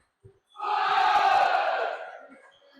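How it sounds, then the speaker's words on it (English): A home crowd at a bowls match in Brighton erupts into a loud roar of cheering and shouting that swells quickly, holds for over a second, then fades away. "And the Brighton crowd are going absolutely crazy"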